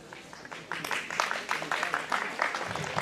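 An audience at a community day-out event claps together in a brief burst of applause, close and lively, with a voice talking over it.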